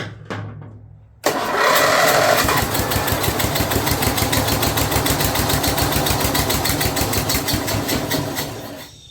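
An old Snapper rear-engine riding mower's 12 HP Briggs engine starts after a brief crank and keeps running loudly and steadily, with a fast, even firing rhythm close by.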